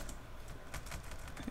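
Rapid, uneven keystrokes tap on a computer keyboard, close and fairly soft, while text is entered into an Excel spreadsheet. No voices are heard.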